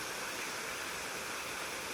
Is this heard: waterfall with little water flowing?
yes